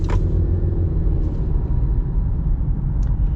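2021 Honda CR-V EX-L engine under light throttle on the road, a steady low rumble with faint road and cabin noise, continuous and moderately loud from inside the car.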